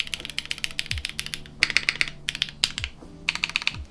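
Rapid clacky keystrokes on a top-mount mechanical keyboard, bursts of typing with brief pauses and a few deeper thocks from a larger key.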